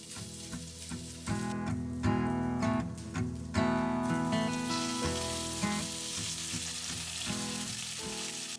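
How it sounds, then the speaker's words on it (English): Potatoes fry in hot oil in a cast iron pan, giving a steady, fairly close sizzle and crackle that swells after a quieter start and carries on throughout with no talk. "A little bit of oil in a cast iron pan, get it nice and hot."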